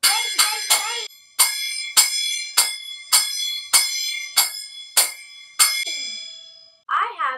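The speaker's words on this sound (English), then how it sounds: "I have the cymbals, and they go bang, bang, bang." A series of bright metallic cymbal crashes, about a dozen in an uneven rhythm, each ringing briefly, followed by a short spoken word at the end.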